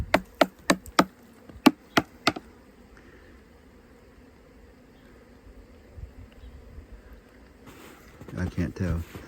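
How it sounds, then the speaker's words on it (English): Honeybees on the first mild day after a big snowstorm: a quick run of sharp taps comes first, then faint, steady buzzing around the hive, with a voice rising near the end. "We got bees, we got bees, we got bees."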